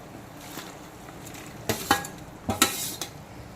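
Fried parshe fish dropped into boiling curry, several quick splashing clatters and sizzles in a few bursts over a low bubbling background.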